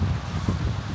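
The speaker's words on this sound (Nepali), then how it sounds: "कस्तो हावा चलिरहेको" Strong outdoor wind blows steadily on the coast of Hawaii, a continuous low rumbling roar of buffeting against the microphone.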